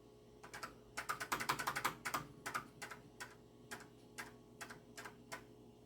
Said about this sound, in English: Let me try pushing the E key.